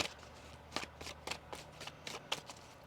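Tarot cards shuffled by hand in a quiet room, a run of about a dozen short crisp riffling bursts spaced irregularly over a few seconds, close and fairly soft, with no talk.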